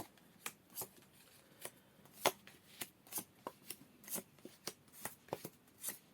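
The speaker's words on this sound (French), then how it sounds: "on recoupe et on va poser nos cartes" Tarot cards being cut and shuffled close up, a string of quiet, crisp riffling snaps and taps at irregular intervals in a hushed room.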